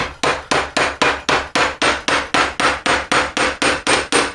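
Steel hammer repeatedly striking a silver ring shank against a metal block with a rounded corner, about fifteen evenly spaced sharp metallic taps, close and loud with no talking.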